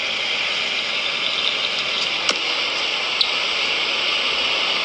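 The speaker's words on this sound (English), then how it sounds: "So this is me driving my truck home." A 6.0 Powerstroke diesel truck with a coolant-pushing fault drones along the road in a steady, even engine and road roar from inside the cab, with a couple of faint clicks.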